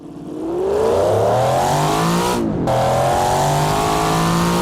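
A 1980s GT car in the BeamNG driving game accelerates loudly, its engine note climbing through rising harmonics, cutting out briefly as a gear shifts, then pulling steadily again with no voices over it.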